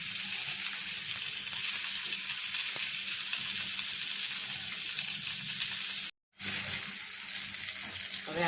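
Corn on the cob roasting over heat, turned to char its sides, gives a steady loud crackling hiss that runs the whole time, with a brief full dropout near the end.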